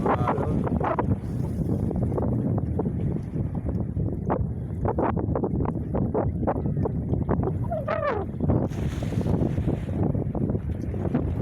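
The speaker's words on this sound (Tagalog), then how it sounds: "Ang lakas ng hangin. Ririnig nyo ba?" Heavy sea wind blasts across the microphone in a loud, unbroken roar with irregular gust pops, out on the coast by the water.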